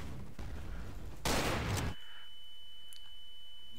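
Gunfire in the game Garry's Mod, a dense burst of rapid shots for about a second in the middle, loud and close, over faint background noise; no talking.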